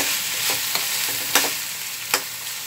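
Masoor dal badi curry stirred in a pan with chili and salt, a steady close sizzle of frying under a few distinct spoon scrapes, without anyone speaking.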